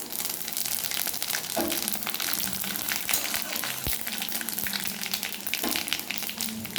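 Bay leaf and panch phoron spices crackle in hot oil for khichuri with a dense, loud, continuous sizzle. A few brief pops and clinks stand out near the cooking pot.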